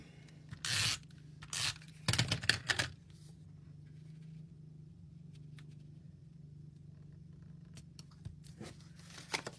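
Adhesive tape pulled off the roll and torn for a Christmas paper banner craft, heard as several short, crisp ripping bursts close by, followed by quiet room tone.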